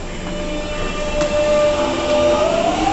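A London Underground Jubilee Line train pulls out of the platform with a steady low rumble and a rising electric motor whine that climbs in pitch toward the end.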